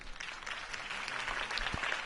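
Crowd applause following Harvey Dent's campaign speech in a Batman video game, a steady wash of clapping that holds at an even, moderately distant level for about two seconds with no voices on top.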